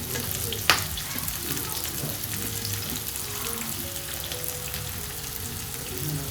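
Tomato rice mixture sizzles steadily in a hot pan as chopped coriander leaves go in, with a brief sharp clatter near the start and constant frying hiss throughout.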